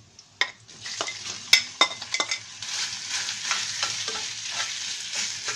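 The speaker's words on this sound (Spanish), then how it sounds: "Y voy a freír la carne." Ground meat frying and sizzling in a pan for picadillo, with a steady hiss under repeated sharp scrapes and clacks of a utensil stirring against the pan, close and fairly loud, no talking.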